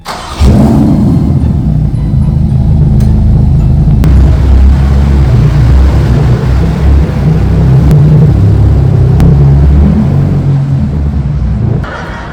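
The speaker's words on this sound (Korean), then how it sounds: "그럼 나가볼까? 페라리 타고?" A Ferrari driving along Teheran-ro in Seoul gives a loud, steady, low engine rumble that holds for about twelve seconds before easing off at the end.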